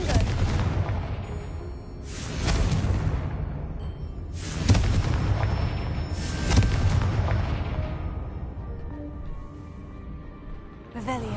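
Confringo spell blasts in Hogwarts Legacy erupt as several heavy booming explosions a couple of seconds apart, each decaying into a rumbling tail amid game sounds.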